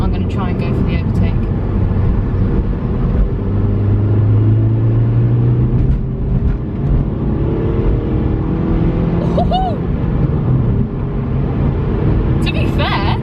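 Suzuki Swift Sport accelerating hard to overtake, a steady droning engine rumble with rising pitch sweeps, heard from inside the car with road noise throughout.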